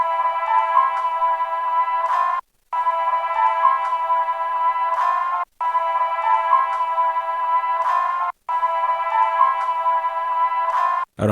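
String sample chops triggered on an MPC Live II sampler, a sustained bowed string phrase repeating in four bars with brief silent gaps between loops, loud and close with no talking.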